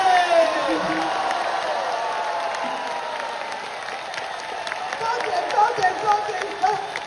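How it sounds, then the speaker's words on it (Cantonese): A crowd applauds and cheers steadily throughout, dense clapping with scattered shouts rising again near the end. "歡呼聲！"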